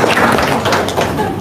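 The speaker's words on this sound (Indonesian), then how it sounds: "Pak, tepuk tangan dulu dong Pak" An audience of men and women claps hands at a talk, a dense, loud patter of close applause that swells and eases slightly, with a voice mixed in.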